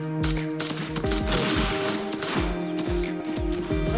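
A BB gun fires in a video game in rapid repeated shots, a steady, loud, mechanical rattle of evenly spaced pops running without a break, with no speech over it.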